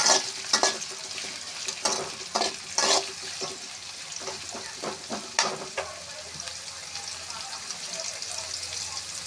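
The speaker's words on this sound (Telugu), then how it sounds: "ఆనియన్స్ సన్నగాని సన్నగా వేస్తున్నాను" Finely sliced onions fry in a pan for a mushroom curry, with a steady close sizzle broken by several sharp scraping stirs early on that thin out later.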